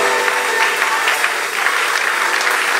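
A church congregation applauds steadily throughout, dense sustained clapping at full volume with no pauses and no talking over it.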